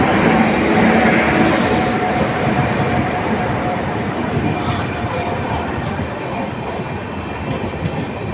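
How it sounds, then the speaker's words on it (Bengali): The Vivek Express train passes close by, a loud, continuous rumble and clatter of rail wagons that holds steady for the whole stretch with no voices. "বহুদিন পর বিবেক এক্সপ্রেস সামনাসামনি দেখলাম।"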